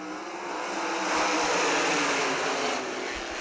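Race cars roar as they accelerate together at the green flag starting a dirt-track heat race at Millstream Speedway, a loud, dense, sustained engine wash that swells slightly and holds steady throughout.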